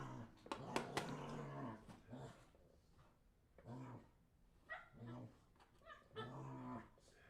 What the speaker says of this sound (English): So I apologize for the loudness of the puppies